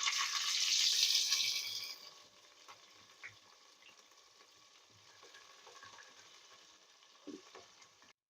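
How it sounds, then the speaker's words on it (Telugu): Chopped onions fry in a pan for a pressure-cooker chicken pulao. A loud, close sizzle fills the first two seconds, then settles into a quieter, steady frying hiss with a few faint stirring knocks. "ఆనియన్స్ వేయించుకుంటున్నానండి"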